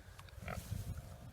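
Pigs on a farm give faint grunts and low snuffling close by, mixed with outdoor rustle and brief knocks, quiet and without talk.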